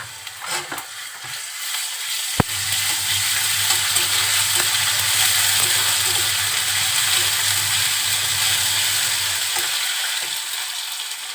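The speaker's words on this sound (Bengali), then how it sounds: "তেলের সাথে মশলাটা খুব সুন্দরভাবে ভেজে নিব যাতে কাঁচা কোনো গন্ধ না থাকে" Onion with garlic and cumin paste fries in hot oil with a loud, steady sizzle, broken by scraping stirs and one sharp utensil knock near the start, close and without talking.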